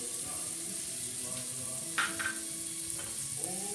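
Onion, garlic and bacon frying in oil for pasta with chickpeas, a continuous sizzle with stirring scrapes and a soft clatter partway through, a voice faintly in the background.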